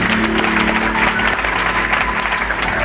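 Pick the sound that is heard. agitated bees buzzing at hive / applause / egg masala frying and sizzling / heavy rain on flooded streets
applause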